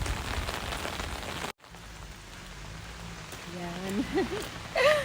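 Rain falls steadily outdoors during a walk, a soft, even hiss that stays in the background, with a brief voice and a short dropout near the start.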